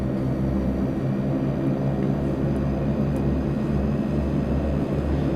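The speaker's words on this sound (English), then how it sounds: "we are going to start taxiing out to runway 5" A De Havilland Twin Otter twin-propeller aircraft taxiing in FSX flight simulator, a steady droning engine hum with a low buzzing propeller tone, constant and loud throughout with no voices.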